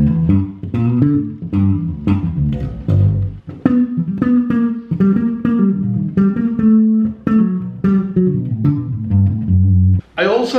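A short scale bass guitar, captured only by a small point-and-shoot camera's built-in mic, plays a busy run of thick, round notes and slides for about ten seconds, with no talking.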